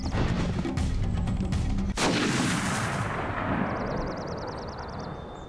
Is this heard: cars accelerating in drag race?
no